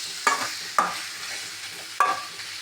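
Chicken roast frying in a pan, with three sharp scraping stirs of a spatula over a steady background sizzle, close and fairly loud.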